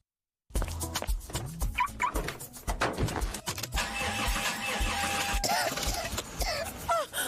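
A car engine failing in an engine oil advert, with repeated cranking and sputtering, straining engine noise that runs loud and continuous after a sudden start, with whining, wheezing tones near the end.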